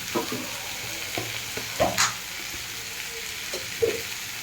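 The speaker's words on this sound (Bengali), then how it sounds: "এর মধ্যে আমি একটু আদা রসুনের পেস্টটা দিয়ে দেবো" Ginger garlic paste frying in a pan with tomato, a soft steady sizzle close by, broken by a few louder stirring scrapes and clinks of a spoon against the pan, with no talking.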